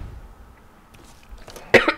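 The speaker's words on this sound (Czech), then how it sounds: "Před koncem zrovna musím kašlat." A single harsh cough bursts out near the end after a quiet stretch of room noise, close to the microphone, from a Czech player while commenting on Mafia 3 gameplay.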